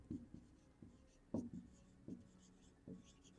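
A pen writes on paper while a math symmetry exercise is worked and a triangle figure is labelled, with several short, soft scratching strokes separated by pauses, close and quiet.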